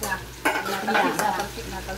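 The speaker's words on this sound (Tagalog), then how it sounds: "siya naman po ang nagpiprito ng atay" Oil sizzles and crackles steadily as liver fries, with stirring or scraping sounds mixed in, close and fairly loud.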